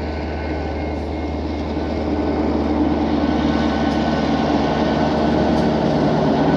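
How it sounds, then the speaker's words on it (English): Train rumbling past near a waterside magnet-fishing spot, a steady low, loud roar holding through the whole stretch and swelling slightly as it draws closer, with no talk over it. "here comes the old choo-choo"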